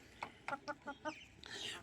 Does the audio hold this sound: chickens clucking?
yes